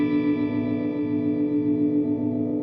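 A Chase Bliss Mood Mk2 pedal in tape mode holds a frozen, sustained guitar tone that wavers and bends in pitch, a steady, dense drone with heavy effects and no talking.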